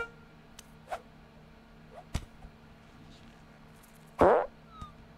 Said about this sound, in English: Just fart